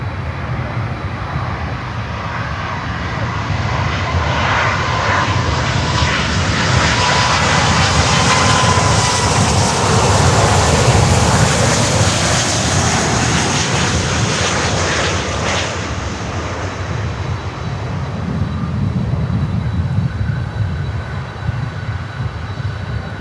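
A Boeing 777 jet roars loudly at Miami Airport, a broad, sustained engine rumble and whine that swells and fades slightly as the aircraft passes, heard alone without talk.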